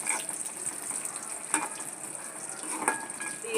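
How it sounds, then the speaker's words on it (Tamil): Steady oil sizzling and crackling as chillies and garlic fry in a pan, fairly quiet and continuous, with a few faint scrapes and no voices. "இந்த மாதிரி பொரியணும் ஃப்ரெண்ட்ஸ் மிளகா, அப்போ தான் நல்லாயிருக்கும்."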